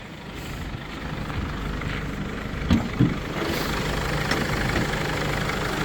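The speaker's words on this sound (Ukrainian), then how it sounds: "Чисто гарно працює двигун" A 2005 Mercedes Sprinter 313 van engine idles close by with a steady low rumble and hum, and two brief knocks partway through.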